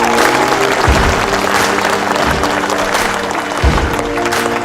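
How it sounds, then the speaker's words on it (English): An audience claps throughout, a sustained dense applause that stays loud and continuous from start to finish, with a few low thumps mixed in. "it would make me super fucking happy if everybody clapped it up for each other"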